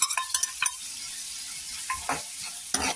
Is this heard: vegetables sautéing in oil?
yes